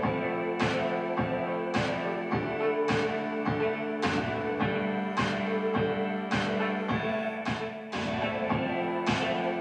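Live music from a stage's speakers, picked up from the front of the stage by a camera's built-in microphone, with steady sustained tones and a regular pulsing beat filling the whole stretch at a fairly even level.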